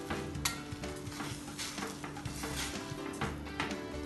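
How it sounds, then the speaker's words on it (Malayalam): A pot of water with turmeric powder and salt coming to a boil on the stove for red spinach pulisseri, a faint, close, fizzing simmer with soft bubbling crackles and occasional light pot sounds. "ഇത് തിളച്ച് തുടങ്ങിയിട്ടുണ്ട്."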